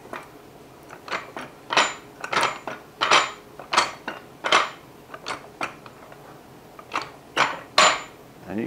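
A Vevor 3-ton automotive pump jack is raised with repeated pumping strokes, a series of sharp metallic clacks and ratcheting knocks in an irregular rhythm, close by.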